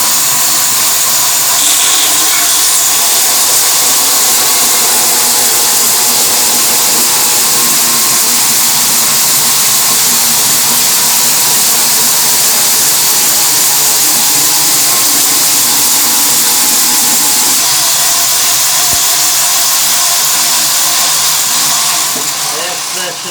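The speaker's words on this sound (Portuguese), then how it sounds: "Essa chamada aqui é serra fita, uma serra muito boa, uma serra caseira" A homemade, hand-built band saw in a small home woodworking shop runs steadily and loudly, a continuous broadband whir and hiss holding nearly constant throughout with no pauses.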